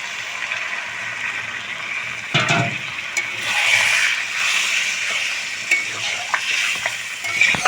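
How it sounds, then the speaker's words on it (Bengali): Water poured into a sizzling pan of jackfruit and shrimp curry, a burst of hissing, spitting steam over ongoing frying and occasional stirring, close and fairly loud with no speech. "এঁচোড় চিংড়ি কষানো হয়ে গিয়েছে, এখন আমি জল অ্যাড করে দেবো।"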